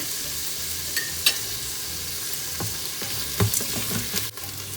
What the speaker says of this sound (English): Saute this well. Ginger garlic paste